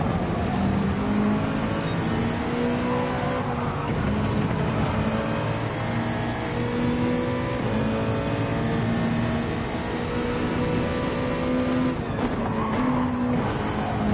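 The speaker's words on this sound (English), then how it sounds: "I can hear the tyre squeal like crazy." In Gran Turismo, a Gr.2 race car at Suzuka in dynamic weather drones along under continuous tyre squeal, its engine note rising and falling steadily and loudly for the whole stretch.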